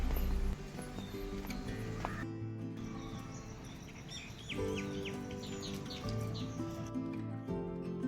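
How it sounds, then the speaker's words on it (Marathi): Birds chirp and tweet in short bursts in the morning in a garden beside a Shiva temple, over a quiet outdoor background with faint music-like tones underneath; the calls are soft and intermittent. "पक्ष्यांचा किलबिलट तर इतका चालला होता सकाळी सकाळी"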